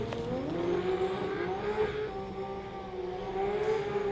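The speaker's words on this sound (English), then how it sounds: "Oh, Zoran, big skid." Race car tires squeal in a long, steady skid during an Australian sports compact drag racing final, the engine tone droning beneath at moderate distance with no talk.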